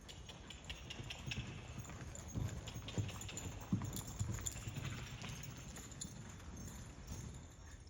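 A horse's hooves clip-clop on the ground during a training session, an uneven walking rhythm of moderately close steps over faint background noise, with no talk.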